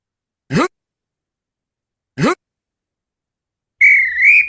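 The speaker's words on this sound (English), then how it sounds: "then you can hear the whistle at the end" Two short chirping robot beeps, then a sustained, wavering whistle sound effect imported into a robot program, loud and clean against silence.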